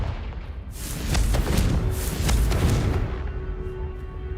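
A Confringo fire spell exploding in the video game Hogwarts Legacy, a loud rumbling blast that swells for about two seconds and then rolls away into a fading low tail.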